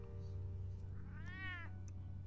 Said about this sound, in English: The cat woman has a cat.